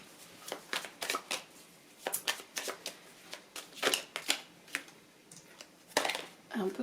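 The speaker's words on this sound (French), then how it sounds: "Je ressens le besoin de mélanger, alors je mélange." Tarot cards being shuffled by hand, a series of crisp, close riffling bursts coming in an uneven rhythm, with faint talk in the background.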